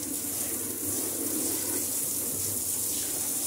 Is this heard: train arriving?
no